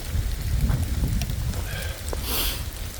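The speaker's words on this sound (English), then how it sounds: "I was hoping this rain was gonna miss us, but it looks like it might not." Steady rain falls outdoors in an open field clearing on wooded Illinois land in winter, a constant soft hiss with low rumbling underneath, close and continuous with no one speaking.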